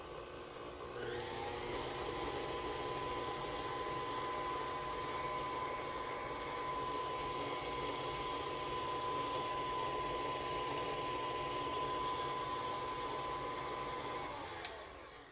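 An electric mixer whirs through carrot cake batter with vanilla, a steady motor drone starting up after a moment and running evenly and close for over ten seconds before cutting off, with no talk over it.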